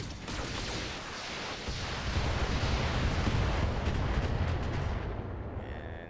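Heavy weapons fire from a mech in the BattleTech video game, set on the moon, a dense continuous roar of blasts and rumbling impacts that swells and stays loud throughout, with no talking.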